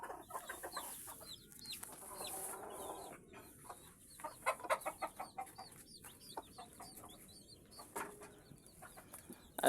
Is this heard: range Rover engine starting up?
no